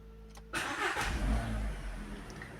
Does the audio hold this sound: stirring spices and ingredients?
no